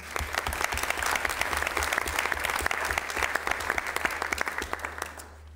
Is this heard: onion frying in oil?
no